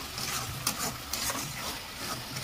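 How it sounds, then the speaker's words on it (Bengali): Masala with red chili powder for a spicy chicken feet curry sizzles in a pan under steady stirring, a dense close frying hiss with a couple of louder scraping strokes, no speech. "ভালো করে নেড়ে দাও মশলাটাকে।"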